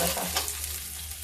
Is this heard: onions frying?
yes